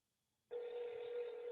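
An outgoing phone call that goes unanswered: silence, then a steady ringback tone starts abruptly and holds, faint and thin as if heard through a phone line.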